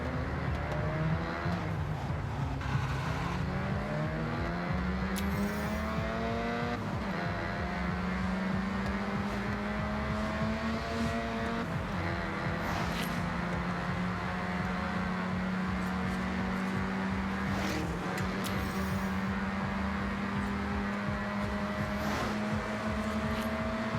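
A Mazda RX-7 with pop-up headlights drifts in a racing video game, its engine drone steady and rising in pitch with a few shifts, heard faintly and continuously with no speech.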